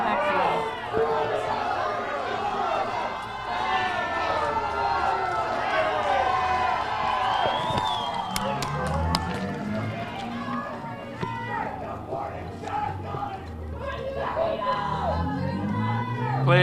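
A large crowd at a memorial event boos loudly and at length, a sustained mass of jeering voices mixed with shouts and chatter, with individual speakers heard through the noise.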